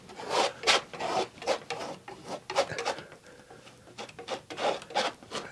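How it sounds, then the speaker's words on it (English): A brush scrubs oil paint onto a canvas for a wet-on-wet still life of garden vegetables. It makes a close, rhythmic rasping and rubbing in quick repeated strokes of uneven loudness, with no talking. "Rubbing that paint in, going up to the edges."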